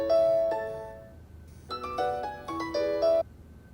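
A melodic electronic phone ringtone plays in two bursts of tones, a short phrase, a pause, then a longer repeating tune, fairly loud with no talking.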